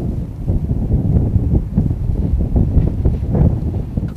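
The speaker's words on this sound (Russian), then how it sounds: "Ураганный ветер срывает билборды и рушит конструкции балконов." Hurricane-force wind battering a town during a storm, tearing off billboards and balcony structures, heard as a continuous loud low roar and buffeting gusts against the microphone, with no voices.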